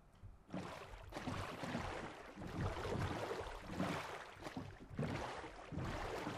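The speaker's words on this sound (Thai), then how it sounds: "นี่คือเสียงเรือภายในน้ำนะครับ" Minecraft boat moving through water, a video game effect: a faint, continuous watery swishing and lapping with soft rhythmic surges, heard alone without voices.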